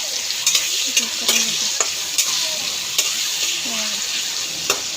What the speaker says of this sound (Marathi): आता गोबी परतायला टाकली